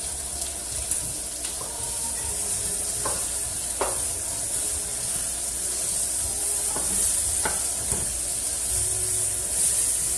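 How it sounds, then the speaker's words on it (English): Corn fries in a pan with a steady close hiss and sizzle, broken by a few scraping stirs and knocks, and no one speaks. "chicken is in the oven, and we are frying this corn."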